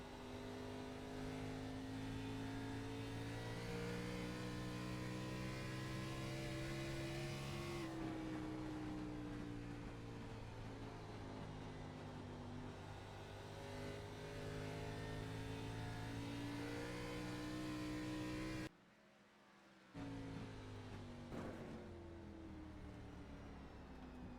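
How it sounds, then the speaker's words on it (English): Car engines drone steadily and rev up at close range, pitch rising and falling, with a brief drop to near silence before the engine noise returns. "You hear the cars now?"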